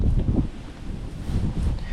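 Gusty wind buffeting the microphone on a sunny spring day while fishing for perch, rumbling low and uneven over two seconds, with faint rustling behind it.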